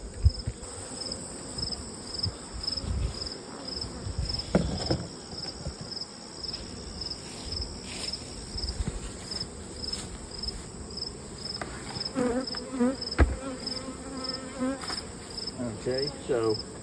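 Honeybees buzz around opened hives, heard close by as a continuous insect hum. Soft handling knocks and rustles from the hive work come and go underneath it.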